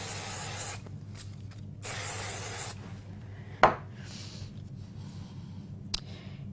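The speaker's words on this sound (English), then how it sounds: "Bit of spray glue." Two long hissing bursts of spray from an aerosol can, each lasting about a second, followed by a sharp tap and faint rustling in a quiet room.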